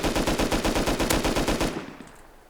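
Rapid automatic bursts of AK rifle fire in the game Rust, loud and close, a steady rattling volley of cracks for nearly two seconds before cutting off and fading into a short echoing tail.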